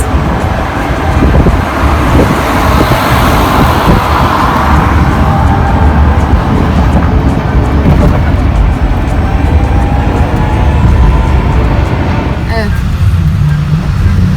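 A Renault Twizy electric car drives through Istanbul traffic near Galata Tower, with loud, steady road and wind noise and surrounding traffic rumble throughout while a person talks over it.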